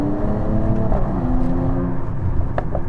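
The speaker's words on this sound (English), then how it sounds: "When the inline 6-cylinder wakes up, when you give it some gas, it does sound very, very good." A Mercedes-AMG GT53 four-door coupe's inline six-cylinder engine pulls hard under throttle from inside the cabin, a loud steady rising drone that drops briefly at a gear shift and then climbs again.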